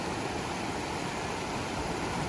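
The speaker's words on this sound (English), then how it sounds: "Be crossing the creek in Virginia Canyon, and it's gonna get up over his knees" Swift creek water in Virginia Canyon rushes steadily, a dense broadband hiss with no breaks, close and fairly loud.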